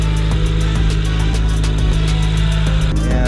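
A 2019 Acura NSX fitted with SOS downpipes and a JB4 tune idles steadily, a low, even hum close by with faint ticking and no voices.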